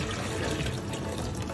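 Roughly four cups of water pour into kadhi batter in a pot, a dense, continuous splashing gush heard up close throughout.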